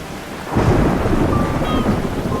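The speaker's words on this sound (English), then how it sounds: "The cat, abandoned and lost in the rain and storm, looked pitiful and weak." Rain pours steadily while thunder rumbles loudly, swelling suddenly and rolling on as a heavy storm continues.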